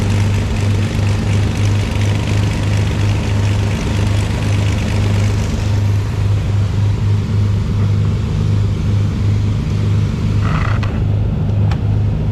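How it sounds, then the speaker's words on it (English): A neighbor's aircraft engine starting up nearby, heard as a steady, loud propeller drone with a strong low hum that holds throughout, a brief higher whine near the end. "that was one of the neighbors starting up their aircraft"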